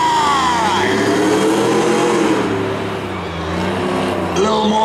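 Chevrolet Silverado and S10 trucks drag racing at a track, heard as a steady, loud engine drone with shifting pitch that dips and swells, with a commentator talking over it.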